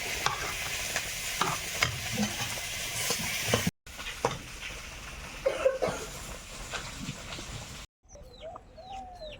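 Bottle gourd dal with ginger, green chilli, salt and turmeric simmers in a pan, a steady soft sizzling hiss with occasional small knocks and bubbling, close and fairly loud, broken by brief cuts and ending with birds chirping outside.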